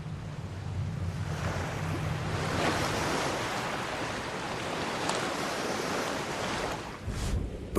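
Waves breaking on a beach shoreline where flatback sea turtles come ashore, a continuous rushing wash of surf with gentle swells and light wind noise, no voices.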